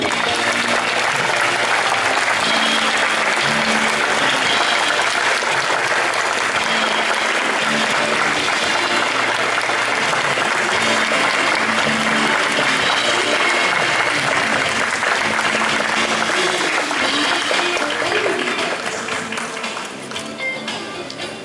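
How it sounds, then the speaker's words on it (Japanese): A large audience applauds steadily to welcome three Boeing test pilots onstage at a talk show at Centrair airport marking the 787-8 ZA001's visit; the dense clapping holds for about twenty seconds before tapering off. "どうぞ拍手でお迎えください"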